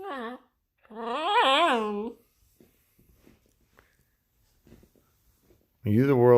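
A puppy makes high, whining cub-like noises. Drawn-out whimpers come in separate bursts with quiet pauses between them, close and clear.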